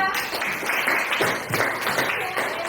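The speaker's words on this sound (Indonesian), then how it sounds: "kita tepuk tangan dulu untuk Faiza" A class of students clapping their hands for a classmate, a short burst of brisk, fairly close clapping lasting a few seconds with some background voices.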